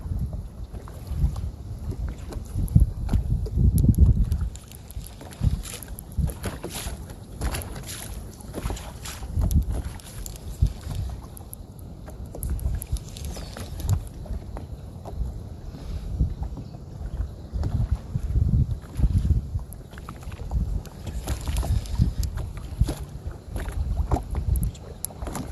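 Wind buffets a small bass-fishing boat out on the water, a steady low rumbling roar of gusts across the microphone with lapping water and occasional knocks, no voices.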